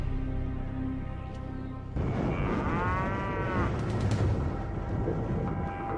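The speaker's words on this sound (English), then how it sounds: "This remote cow pasture, a 3 hours drive north of Phoenix, might contain a telling link to Mercury's volcanic history." Cattle in a remote cow pasture north of Phoenix, with one drawn-out moo rising over a steady rumbling background and no talk.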